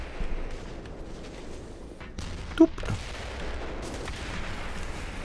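A rocket weapon fires in the Black Mesa game, producing a single sharp blast over a low rumbling game background, with no one speaking.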